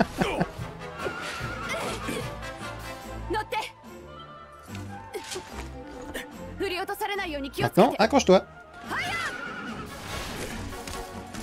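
A horse in the Dragon Quest XI video game whinnies in short bursts amid game music and sound effects, while someone talks over it in French.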